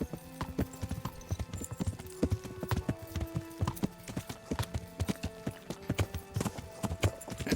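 Horse hooves clip-clop steadily in the medieval open-world game Kingdom Come: Deliverance, a brisk close rhythm of repeated hoof strikes with layered game ambience and a few faint background tones throughout.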